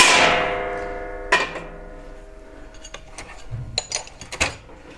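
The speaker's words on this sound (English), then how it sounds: "so I just need to centre punch them" A few sharp metallic strikes ring out as a hammer drives a centre punch into metal, one loud hit followed by lighter taps and clinks, close by with no speech.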